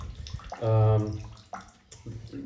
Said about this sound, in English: I'm actually collecting water in a bucket